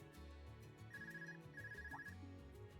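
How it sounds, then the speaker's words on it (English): Electronic telephone ringtone in the video game Trails of Cold Steel III, two short trilling bursts over game background music, moderately quiet. "Phone call."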